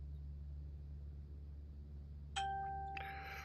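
A single short phone notification ding rings out clearly over a low, constant hum in a quiet room.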